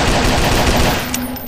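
A rapid, continuous burst of automatic machine-gun fire, loud and dense, from the horror video game Jeff the Killer.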